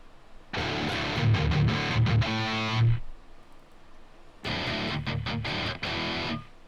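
Heavy distorted electric guitar through a 5153 amp capture in the STL Tonehub plugin, loud chugging riffs with a sustained chord, a pause, then another burst of tight palm-muted chugs.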